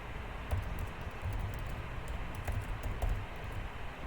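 Rapid typing on a computer keyboard while coding a calculator website, a close, steady patter of key clicks with a few sharper taps standing out, no voices.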